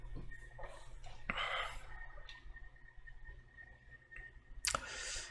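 A computer mouse double-clicks while editing a long-exposure seascape photo, producing faint, sharp clicks near the mic against a quiet room background.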